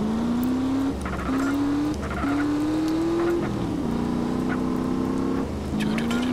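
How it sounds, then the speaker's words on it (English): Tires squeal and skid repeatedly during a street race in the video game GTA: San Andreas, sliding whines over a steady engine drone with game music underneath. "Love that skidding."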